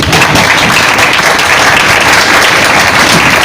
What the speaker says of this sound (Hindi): खुदा की जलाल के लिए जोरदार ताली।